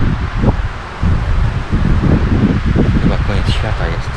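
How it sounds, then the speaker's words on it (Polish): Strong gusty wind buffeting the microphone on a hike up Mtatsminda in Georgia, a continuous low roar with rustling, while people talk over it. "Słyszycie ten wiatr?"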